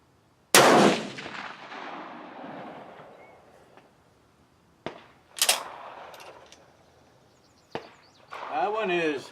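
A single loud rifle shot fired with a handload of IMR 4064 powder behind a 150 grain Hornady full metal jacket bullet, its blast decaying slowly outdoors, followed later by fainter knocks and a short stretch of talk.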